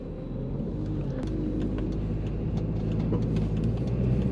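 A turbocharged Audi TT, with a replaced boost part and a history of boost problems and misfires, pulls away in first gear from inside the cabin, its engine rumbling in a low, steady drone that slowly builds in loudness.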